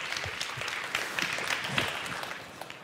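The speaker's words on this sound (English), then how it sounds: "a big applause for Oscar and for this value input" An audience at a conference talk on a hacker congress stage applauds, a brief dense patter of clapping heard from the room, moderately loud and fading toward the end.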